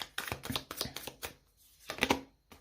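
A tarot card slides back into the deck amid a quick run of crisp card flicks and riffles, close and quiet, followed by a short pause and a final snap of cards.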